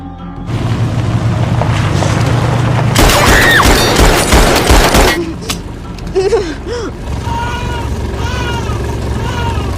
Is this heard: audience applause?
no